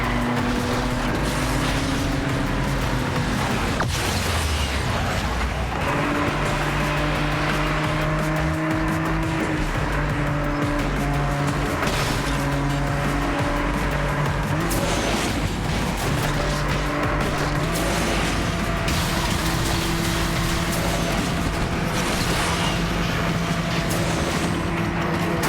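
Race cars in Asphalt 9 played on a Redmi Note 9 Pro roar continuously, with engines rising and shifting in pitch and tires squealing through turns, loud and unbroken throughout.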